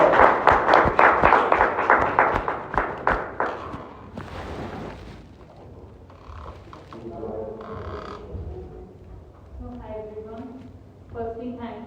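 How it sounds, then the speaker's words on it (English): Dense clapping from an audience at a Toastmasters session fills the first four seconds and fades out, followed by a voice speaking alone at moderate volume. "Please give a big round of applause."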